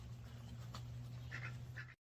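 Ducks quack in short bursts in a yard where they live alongside dogs, the calls moderately close over a steady low hum.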